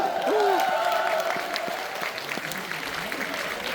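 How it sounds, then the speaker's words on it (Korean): An audience at a Hanchongryeon student movement gathering applauds its technical staff comrades, a steady crowd applause filling the room, with a voice rising briefly over the clapping near the start. "우리 기술직 동지들에게 큰 박수 부탁드립니다."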